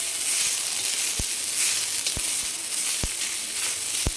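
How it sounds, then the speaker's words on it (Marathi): Chopped onion roasts in a little oil over a high gas flame, giving a continuous close sizzle and hiss punctuated by a few sharp clicks or pops. "तर आपला हा कांदा भाजतोय"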